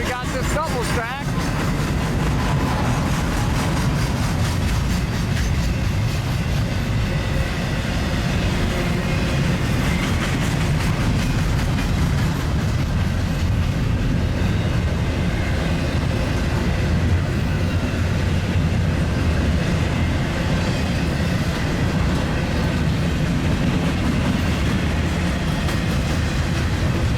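A double-stack freight train passes with a constant loud rumble and wheel clatter sustained for nearly half a minute, close by, with someone talking over it at times.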